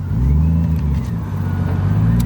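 A BMW E36 with a turbocharged M52 engine, tuned toward 1000 hp, runs loud and close with a steady, throaty drone and slight rise and fall in pitch, shown alone with no talking.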